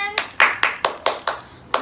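Children in a nursery class clap their hands in about seven sharp, evenly spaced claps, close and distinct with no talking.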